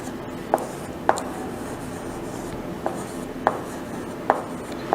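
A pen or marker draws a sari border design on a board, giving soft continuous scratching strokes with a few sharper taps, close and moderately loud, with no speech.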